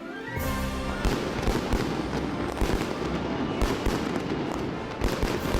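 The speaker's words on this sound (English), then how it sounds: "It's the fireworks boat. You know it's the start of Winterfest when those things go off." A fireworks boat sets off fireworks at the start of the Winterfest boat parade, a dense, continuous run of loud bangs and crackling bursts that keeps going steadily for several seconds.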